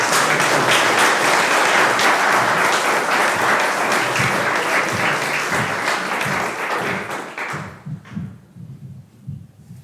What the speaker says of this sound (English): if we can give Ethan a very big round of applause